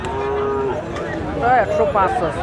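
A Sahiwal bull at a cattle market gives a close, loud, drawn-out moo that rises and wavers over steady crowd background noise.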